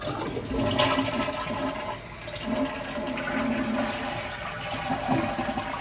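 A toilet flushes after its fill valve has been replaced, giving a sustained rushing, gurgling wash of water that runs at steady moderate loudness throughout, close by and with no talking.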